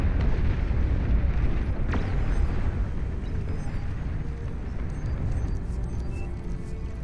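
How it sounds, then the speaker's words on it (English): A nuclear missile explosion in Beyond All Reason unleashes a deep, sustained roaring rumble that stays heavy and continuous before slowly easing. "Nuclear missile coming up right here for the green commander in the back line."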